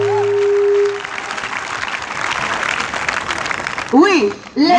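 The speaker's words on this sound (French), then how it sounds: "Si tu y crois, acclame très très très fort." A church congregation breaks into loud, sustained applause, a dense wash of clapping that swells after a preacher's shout and continues while a voice resumes speaking over it near the end.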